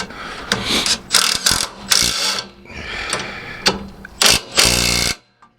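A ratchet tightens the bolts on a new strut on a Ford Transit van, with close, loud bursts of rapid clicking that come in several quick runs with brief pauses and end abruptly.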